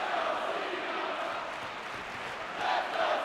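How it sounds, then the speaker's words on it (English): Large wrestling crowd at Madison Square Garden cheering John Cena on, a steady dense roar of many voices that swells louder near the end. "The crowd at the Garden trying to will John Cena on"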